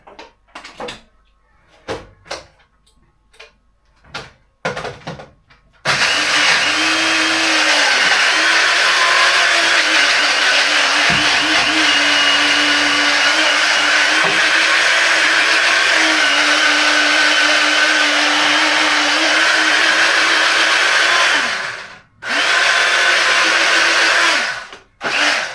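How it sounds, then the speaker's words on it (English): A kitchen blender whirs loudly and steadily for about fifteen seconds while blending tikka ingredients, with a dip near the end, after a few handling knocks and clatters nearby. "I'll leave you over there so you can hear the blending noises."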